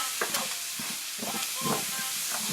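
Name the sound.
onion sizzling as it goes into the pan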